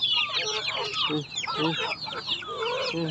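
Several chickens cluck and chatter close by in busy, overlapping bursts while eating pomelo, with occasional soft human speech mixed in.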